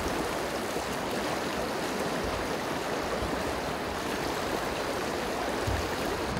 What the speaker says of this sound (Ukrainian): Потічок такий лісовий, так затоплює кожен раз.